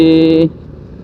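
Engine of a 2023 Honda Supra X 125 PGM-FI motorcycle running with a steady, buzzing hum for about half a second, then cutting off abruptly to near silence.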